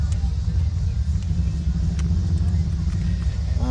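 Cars rumble past at a classic car show, a loud, continuous low engine drone filling the space, with some speech-like sound present beneath the traffic.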